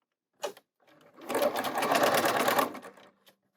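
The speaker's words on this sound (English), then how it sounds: "I'm going to sew my 1/4 inch on one side, and then I'm going to go down the other side" A sewing machine runs a quarter-inch seam on a two-colour flying geese quilt block: a short burst, a brief pause, then a steady whirring stitch run of about two seconds, close and clear with no talk.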